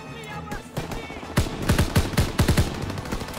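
Enemy gunfire in a WW2 video game: clusters of sharp, loud rifle and machine-gun shots in quick irregular bursts over a rumbling battlefield background.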